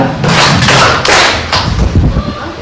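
Children in a classroom clapping game strike loud, close, sharp claps in a short rhythmic series of distinct bursts with no talk between them.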